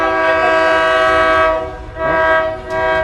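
A loud train horn blares in sustained harmonic blasts as a train rumbles past close by, the horn briefly dipping before sounding again.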